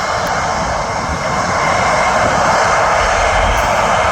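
An airliner on the Birmingham to Mallorca departure thunders loudly and steadily on its take-off roll, a dense close engine roar that holds without a break.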